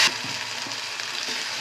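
Tomato and garlic mixture added to hot mustard-seed and curry-leaf tempering, giving a steady broadband sizzle that holds close and even throughout, with a few soft stirring knocks and no talking.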